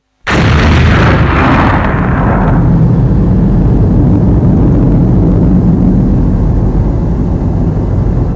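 A massive explosion erupts suddenly and swells into a long, deep, roaring rumble that keeps thundering without fading.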